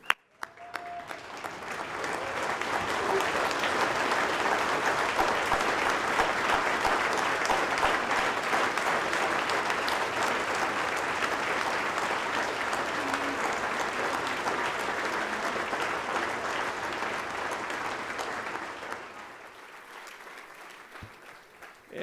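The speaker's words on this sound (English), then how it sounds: "I want everybody else to stand up and give them a round of applause" An audience at a fundraising dinner gives Vietnam veterans a standing ovation: sustained, loud applause from a large room building quickly, holding for nearly twenty seconds, then tapering to a quieter patter at the end.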